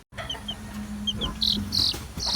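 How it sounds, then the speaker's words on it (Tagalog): Newly hatched chicks and a hen on a pig farm: high, repeated peeping chirps with soft clucking, close by, growing busier toward the end, with no talking. "ito po yung mga bagong pisang sisiw po natin."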